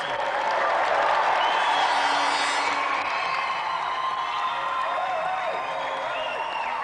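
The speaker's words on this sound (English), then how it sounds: "please, a round of applause for our final competitor tonight, Rod Rambo-Lynette." A studio audience applauds and cheers an arm wrestling competitor on a game show, with steady clapping, occasional whoops and some voices mixed in.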